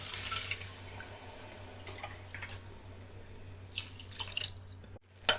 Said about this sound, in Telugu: ఒకటికి 2 నీళ్ళు పోసుకోండి